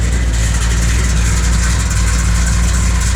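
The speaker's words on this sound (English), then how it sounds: "It is a pump gas engine. It's it sounds mean, but it's built to cruise." A 1969 Dodge Dart Swinger with a mild pump-gas engine idles steadily and loudly nearby, a deep continuous rumble with no revving and no voices.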